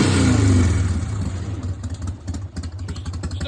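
A 1988 Harley-Davidson Softail motorcycle engine revs loudly up close, then settles into a lumpy, uneven idle with a pulsing low throb and a slight rattle.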